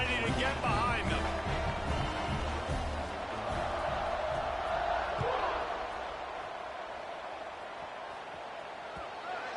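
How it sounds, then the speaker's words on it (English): Stadium crowd noise in a college football video game, a steady roar of cheering that swells and then eases slightly ahead of a kickoff. "They're set to kick it off, and this crowd now ready to get behind them."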